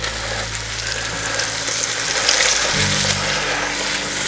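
Floured oxtails browning in a Dutch oven outdoors, a steady loud sizzle and crackle of frying meat with a low hum underneath.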